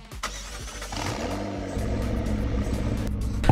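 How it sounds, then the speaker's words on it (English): A McLaren 650S Spider engine in a Roblox video game cranks briefly, then catches and settles into a steady low idle rumble, close and clear with no talking. "listen to the car and it turning on"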